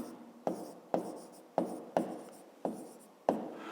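Chalk or marker strokes on a board during a fifth-grade maths lesson, six sharp scratchy onsets each trailing into a brief rasp, spaced at an uneven rhythm, close and fairly quiet with no talking.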